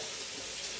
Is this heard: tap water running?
yes